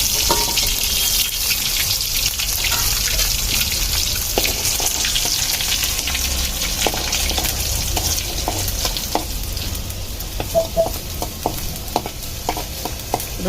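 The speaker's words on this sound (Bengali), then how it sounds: "আমি কড়ার মধ্যে দিয়ে দিচ্ছি রেগুলার রান্নার তেল। এখন দিয়ে দিচ্ছি রসুন কুচি" Chopped garlic fries in regular cooking oil in a wok, giving a loud, continuous sizzle with scattered light pops and spatula scrapes near the end.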